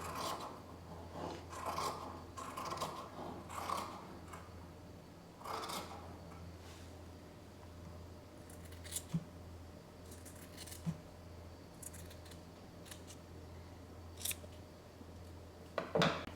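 Scissors snip through fabric near the fold of a sewing project in several short, crisp cuts. They come in irregular bursts, close and fairly quiet, with pauses between them.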